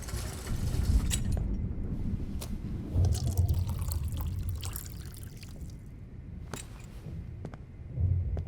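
Water poured and trickling in the video game Life is Strange, Episode 5: Polarized, a steady liquid splash with occasional drips and clinks, fairly quiet and close.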